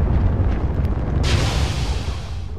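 A boulder rumbles in the video game Limbo, a deep, continuous roar with a brighter hiss swelling in partway through, loud and sustained with no voices over it.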